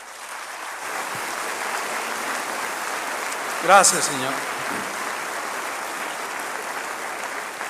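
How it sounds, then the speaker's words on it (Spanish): A church congregation claps in worship, a continuous rain-like patter of many hands throughout, with a short spoken phrase and a louder vocal burst partway through rising above the applause. "Dale un aplauso al Señor."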